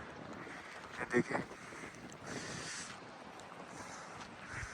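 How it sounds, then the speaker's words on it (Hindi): Cold wind at a mountain hermitage near Badrinath blows in steady, rushing gusts against the microphone, swelling and fading, with someone briefly talking over it. "बहुत ठंडी हवा चल रही है"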